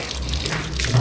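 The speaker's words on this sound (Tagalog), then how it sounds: "Gripo na may cooling effect." Water runs from an outdoor faucet on Mt. Pulag in a short, steady rushing wash of flow, close and alone without talk.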